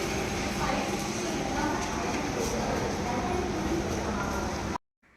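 A train pulling into Madurai Junction railway station: a steady, dense rumble and clatter of rolling wheels heard close, running without a break, then cutting off abruptly near the end.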